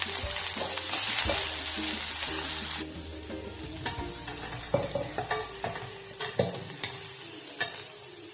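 Onions and bay leaf fry in hot oil for chicken soup, a loud steady sizzle that drops in level partway through, then continues more softly with scattered clicks and scrapes of a utensil against the pan.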